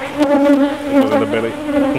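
Honey bees swarm agitated around an open hive, a dense, steady buzz of many wings close by with wavering pitch throughout and no talk.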